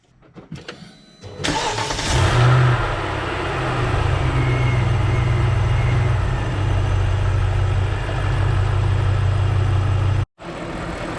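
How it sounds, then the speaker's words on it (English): A BMW X5 engine cranks and catches, then settles into a steady, loud, close idle as it warms up, with a brief cutout near the end. "While you're warming up the car, listen to the engine to make sure there's nothing abnormal."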